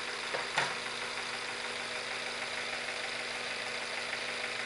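A V8 engine idling at about 773 RPM with a rattle, heard as a steady, even drone with a faint knocking texture, near and continuous, with a brief clatter early on and no talking.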